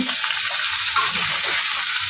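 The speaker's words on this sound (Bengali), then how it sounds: "লাল লাল করে ভাজা হওয়া পর্যন্ত অপেক্ষা করব দেখে নিয়ে আলুগুলো কতটা ভাজা হলো" Potatoes sizzling in a pan as they fry to brown, a loud, dense, steady hiss held close and unbroken for the whole stretch, with no voices.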